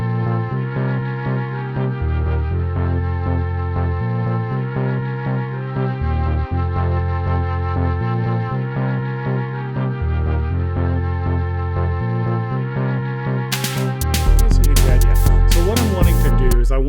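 A music track plays with a deep bass line, a sustained synth pad and a steady drum beat; a burst of noisier sound enters near the end.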